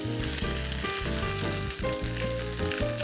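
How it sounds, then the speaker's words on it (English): Pumpkin wedges sautéing in well-flavoured oil for a home curry: a continuous close sizzle with a bed of tonal background music, no speech. "Once the oil becomes well flavored, we'll be adding in the wedges of pumpkin."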